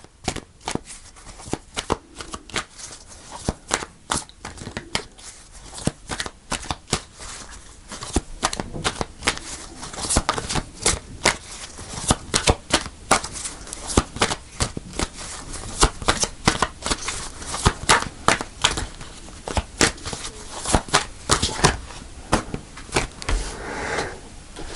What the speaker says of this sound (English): So I'm going to pull a couple of cards extra.